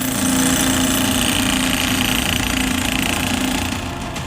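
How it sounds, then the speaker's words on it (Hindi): A hammer drill breaks concrete while workers demolish an illegal madrasa building, a loud, dense, continuous pounding rattle close by, steady for about four seconds with no talk. "मदरसा संचालकों ने अवैध निर्माण को धराशायी करने के लिए हैमर ड्रिल मशीन के साथ मजदूरों को बुलाया"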